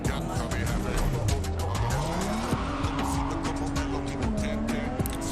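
A stolen car in the video game Cyberpunk 2077 is driven hard, its engine droning loudly while tires squeal and skid in long sweeping slides, steady throughout.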